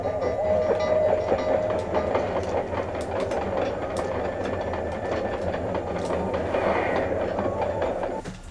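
A video game train in Sly 2: Band of Thieves rumbles steadily along with rhythmic clattering and metallic clicks, continuous and fairly close, with no voices.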